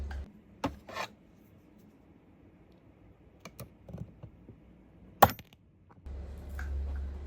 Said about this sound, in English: So we can do that with a flathead screwdriver, and what we're doing, we're gonna remove this clip like this.